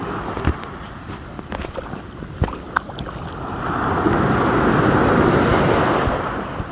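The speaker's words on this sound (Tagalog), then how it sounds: "Katakot, lakas ng alon." Strong ocean waves roll in loudly at Dingalan, Aurora, with gusty wind buffeting the microphone; a few sharp knocks come early, then the surf builds into a sustained, heavy roar.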